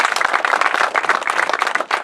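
Loud, dense clapping from an audience of locals at a ribbon cutting ceremony, steady and close with no talk over it.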